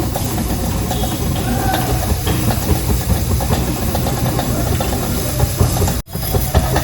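Oil heats in a pan for a wedding-style brinjal curry, giving a loud, steady, close-up hiss that stays almost unchanged throughout, with a brief dip near the end; no one speaks.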